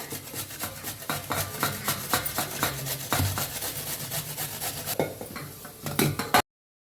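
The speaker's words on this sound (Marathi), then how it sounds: "तर किसणीने गाजर किसून घेते। काकडी भी किसून घेऊया" Carrot and cucumber being grated by hand on a metal grater, a steady run of close scraping rasps repeating back and forth with no talking.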